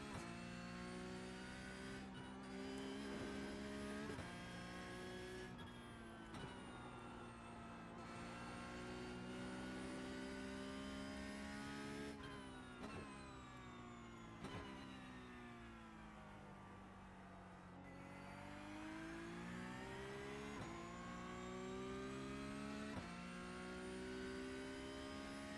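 A Porsche Cup race car in the iRacing sim at the Nürburgring sounds a continuous high-pitched engine wail that keeps climbing and dropping through gear changes and braking, loud and close, with no voices.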